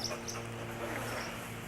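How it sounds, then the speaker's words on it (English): A dog gives a few short, soft yelps or whimpers over a steady low background hum, close by and fairly quiet. "Yeah, that's a nice dog."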